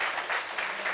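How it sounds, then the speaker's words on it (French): A neighbourhood gathering breaks into steady clapping, a dense, even patter of many hands that holds for the whole second at moderate level with no voices on top. "Applaudissements pour ce voisinage."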